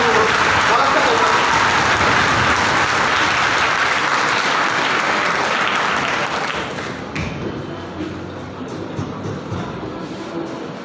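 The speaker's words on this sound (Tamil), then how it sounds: "பலத்த கைத்தட்டணும், பலத்த கைத்தட்டணும், பலத்த கைத்தட்டணும்" A college stage event for an independence day celebration: a big crowd claps loudly and densely for a speaker walking up, the applause holding steady before thinning out toward the end.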